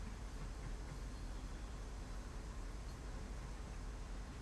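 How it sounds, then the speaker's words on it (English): Steady low rumbling and rolling noise of a moving CSX coal train in Train Sim World, constant and unbroken throughout with no voices. "this coal train's moving along quite well"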